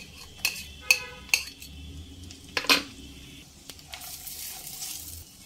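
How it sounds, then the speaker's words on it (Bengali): Ground cumin paste going into a pan of frying ginger-garlic masala for a prawn curry: a faint sizzle under a few sharp metallic clinks of a spoon against the pan and scattered scrapes, fairly quiet and without talk. "1 টিস্পুন গোটা জিরে অল্প জল দিয়ে বেটে নিয়েছি, সেটাই সব দিয়ে দেব।"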